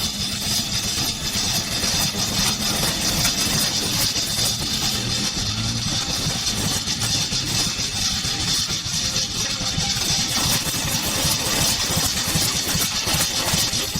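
A Lada Niva (Big Foot) engine running after standing unused for 10 years, a steady, loud mid-pitched idle with a rough, constant vibration and no talking.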